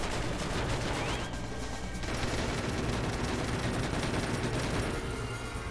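Dense, continuous gunfire from the video game Red Steel, a loud sustained barrage of rapid shots lasting throughout with no talking.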